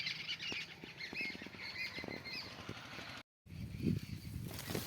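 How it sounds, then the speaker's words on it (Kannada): A bird squawks near its nest on a farm in Kodagu, a series of loud, harsh repeated calls, close by, broken by a short silent gap before more squawking. "ಇಲ್ಲೇ ಇಷ್ಟೊತ್ತು ಹಕ್ಕಿ ಸೌಂಡ್ ಮಾಡ್ತಾ ಇತ್ತು"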